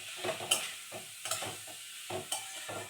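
Potatoes and fresh, tender chickpeas fry in a pan while being stirred, with intermittent scraping strokes over a soft sizzle, close and moderately quiet, with no voices.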